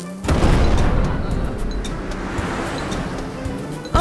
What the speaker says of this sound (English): I think the volcano is erupting.